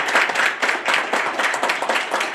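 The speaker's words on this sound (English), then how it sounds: "Give them another round of applause." Audience applause at the close of a baroque winter workshop performance in a Presbyterian church, a dense, steady clapping from a room of listeners, lively throughout and free of speech.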